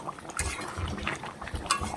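Potato curry (aloo dum) bubbles gently in a covered pot, soft irregular simmering pops and faint clinks of a lid or utensil at low volume.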